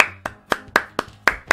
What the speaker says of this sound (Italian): un applauso pure per te